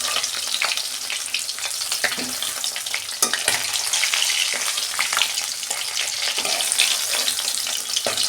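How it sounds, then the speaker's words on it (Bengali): Fish, bhola fish, frying in hot oil as pieces are turned and lifted out, a loud continuous sizzle with crackles and occasional clinks of the utensil against the pan, close and without talk. "মাছগুলো আমি সব ভেজে নিয়েছি, উল্টে পাল্টে তুলে নিচ্ছি"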